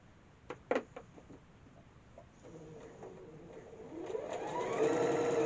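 A sewing machine stitches a quilt, starting with a few faint clicks and taps, then building into a steady, rising mechanical whir that grows louder toward the end.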